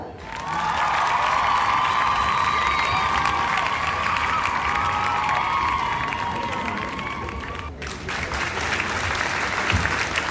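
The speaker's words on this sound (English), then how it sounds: "We have a big round of applause." A crowd at the Community & Business Excellence Awards 2026 ceremony breaks into loud, sustained applause mixed with cheers. It dips briefly near the end, then surges again.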